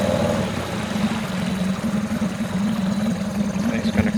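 A boat's outboard engine idles steadily with a low, even rumble, close and continuous, with no talking over it.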